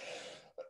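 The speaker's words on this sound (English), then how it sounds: "So I'm sorry, I keep coughing." A brief cough from a speaker at a talk on Holy Spirit living, a short raspy burst followed by a smaller throaty catch, close and fairly quiet.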